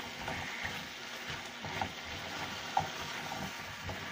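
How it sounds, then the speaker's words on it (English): Fried pork cubes being stirred with sweet and sour sauce in a pan, giving a steady close sizzle with soft scraping stir sounds and a couple of brief clinks, no talking. "Now I'm going to add in some sweet and sour sauce. And give that a good mix."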